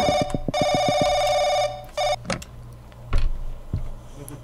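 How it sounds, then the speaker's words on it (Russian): Telephone ringing in the horror video game Paranoiac: two long bursts of bright, trilling electronic ring separated by a short pause, followed by a few clicks and thuds as it stops. "И снова звонит телефон."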